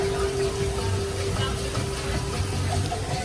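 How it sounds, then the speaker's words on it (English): A small waterfall at Disney's Coronado Springs Resort splashes steadily nearby, making an unbroken watery patter over a faint constant hum. "there's like a cute waterfall over there"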